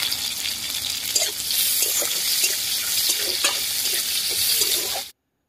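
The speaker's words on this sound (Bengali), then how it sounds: "এবার ওই তেলের মধ্যে আমি দিয়ে দিলাম 5 ফোড়ন, গোটা জিরে, দিয়ে দেবো পেঁয়াজ কুচি, আর দেব কয়েকটা চেরা কাঁচা লঙ্কা।" Panch phoron five-spice, whole cumin, chopped onion and slit green chillies fry in hot oil with a loud, continuous close sizzle and occasional stirring scrapes, cutting off abruptly at the end.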